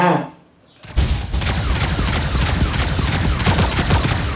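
A loud, sustained burst of automatic gunfire in the Sausage Man battle royale game erupts after a brief quiet moment and continues steadily to the end.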